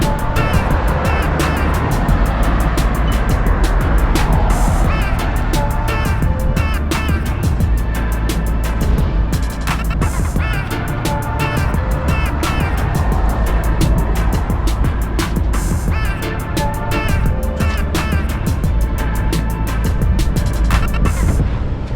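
A car drives along a road in Kingston, Jamaica, near Port Royal Street and Michael Manley Boulevard. Steady engine and tyre rumble fills the cabin alongside loud wind noise, continuous and unbroken throughout.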